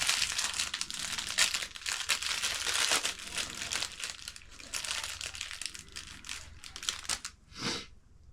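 Cloth cleaning patches for an AR-15 rifle crinkle and rustle up close as they are folded over, a dense run of soft crumpling with a brief louder rustle near the end.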